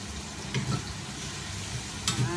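Chicken and bell pepper being stir-fried with oyster sauce in a pan, a steady sizzle with a few short bursts of spatula stirring and scraping, close by, with no voices.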